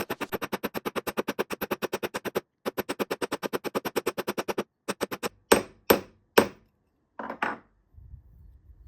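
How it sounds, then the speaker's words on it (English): Planishing hammer striking jewelry jump rings to flatten and texture them, a fast steady run of metallic taps, a short pause, another run, then a few slower, heavier blows, close and alone. "we are using planishing hammer to make that jump ring flat"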